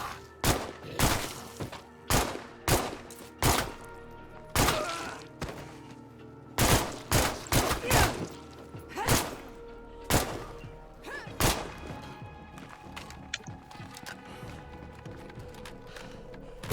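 Gunfire in the zombie survival game State of Decay 2 cracks out as a long series of sharp, loud single shots, some in quick bursts and others spaced apart, with brief quiet gaps between them.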